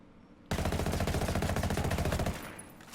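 An FAL rifle in Ghost Recon Wildlands fires a rapid, evenly spaced burst of about twenty shots over two seconds, loud and close, then stops with a short fading tail.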